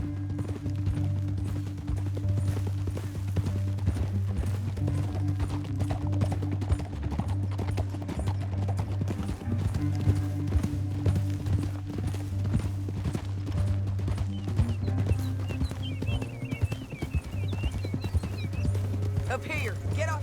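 Steady rhythmic clip-clop of horse hooves in the video game Red Dead Redemption 2 running throughout, mixed with a low droning music bed and occasional voices.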